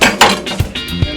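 Knife work on smoked beef short ribs at a barbecue, giving several sharp clinks and knocks of a blade hitting a board or pan, close and loud with no talking.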